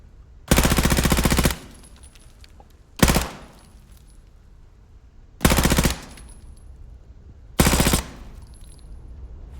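Four loud, close bursts of rapid automatic fire from the ISO 45 submachine gun in the video game Warzone, Black Ops 6, each burst separated by a short pause.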